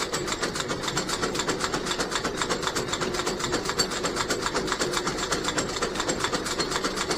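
A fiber mill machine processing bamboo fiber and running at higher speed gives a loud, steady mechanical clatter with a fast regular pulse and a constant hum underneath, close by and uninterrupted.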